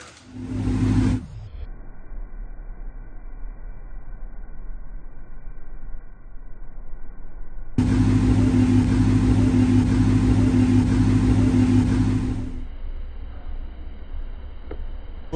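Ford Mustang GT on new wheels, 275 tires up front and 315s in back, its engine rumbling steadily nearby and swelling louder for a few seconds as it rolls out, then easing back to a lower idle.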